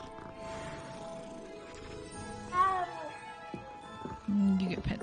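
Two cats meow at close range in the Hogwarts Legacy video game, giving a couple of short mews over a low background hum, while a voice talks throughout.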